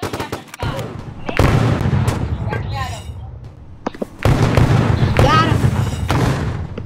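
Roblox gunfire cracks in sharp repeated bursts from a game weapon. The shots come near and loud, with game sounds mixed in, and they are spread across the whole stretch.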